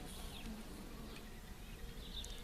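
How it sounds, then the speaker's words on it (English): Honeybees hum steadily inside an opened top bar hive during an early-season inspection, a dense continuous buzz close by with no talk over it. "there's some bees in here"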